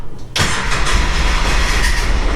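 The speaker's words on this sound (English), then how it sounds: "Here's the big question, will it start? I mean, it tried to start." A Polaris Ranger side-by-side engine cranks and struggles to start, making a loud, steady mechanical churning that runs without a break for about two seconds.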